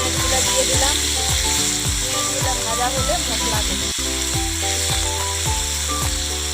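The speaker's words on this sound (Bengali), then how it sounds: "ডিমগুলো দিয়ে দিলাম ডিমগুলো ভাজা হলে মশলা দেব" Eggs frying in a pan after paneer has been fried, a steady close sizzle under background music and a voice.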